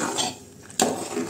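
Chili powder and green chilies are stirred in a cooking pot, with a couple of short metallic clinks of a spoon against the pot, close and quiet.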